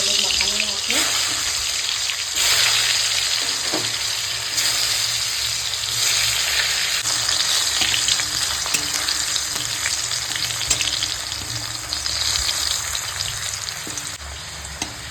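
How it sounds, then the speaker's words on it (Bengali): Slices of sweet pumpkin seasoned with salt and turmeric fry in hot oil, giving off a steady, close sizzle that crackles continuously with no talking. "কুমড়োগুলোকে ভেজে নেবো"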